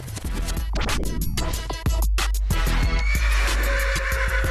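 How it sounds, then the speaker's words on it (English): A horse at a show-jumping farm gives a loud, shaky whinny up close, followed by rustling, scraping movement and breezy background noise. "I'm gonna go show you my favorite horse, Modoc."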